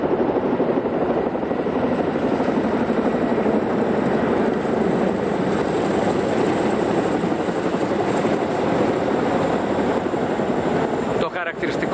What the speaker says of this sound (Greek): βλέπουμε το ελικόπτερο τύπου Chinook.